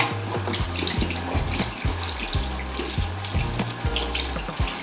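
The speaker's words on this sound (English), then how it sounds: "I'm just giving it an extra rinse to make sure that there's no residue of the colour left or the pre-lightener left" Tap water running steadily onto hair to rinse out copper colour and pre-lightener, a dense continuous splashing and gushing that stays close and even throughout, with no voices.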